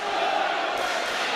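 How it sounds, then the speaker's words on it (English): Volleyball supporters at a women's university regional games match roar in a dense, loud crowd cheer, with rival fan groups trying to outdo each other during play. "There's a wicked cheer off going on now."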